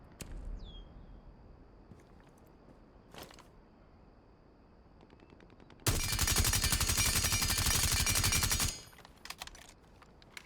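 Suppressed automatic gunfire in Rainbow Six Siege, a sustained burst of rapid muffled shots lasting about three seconds, preceded by a few isolated clicks and a brief short burst, otherwise quiet.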